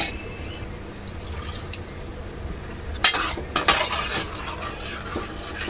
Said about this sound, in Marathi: थोडं आपण जे कोथिंबीर आणि चिरून ठेवली होती ती मिक्स करून थोडं आपण मिश्रण पाणी टाकून ह्याला उकळी काढून घेऊ